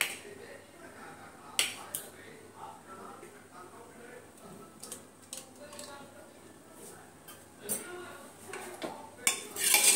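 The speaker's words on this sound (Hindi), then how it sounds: "अब मैं इसको क्या करती हूँ, सब्जी में थोड़ा सा मिक्स कर देती हूँ।" Fried onions are stirred into vegetables in a pot for biryani, giving intermittent metallic scrapes and clinks of a spoon against the pot. The sounds are soft and scattered, with someone talking at times.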